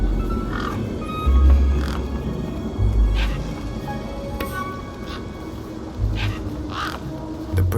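Big Steve, a tough desert bird in the game Beyond a Steel Sky, gives harsh crow-like caws over a dense, low rumbling game ambience, several calls spread through the clip at moderate distance.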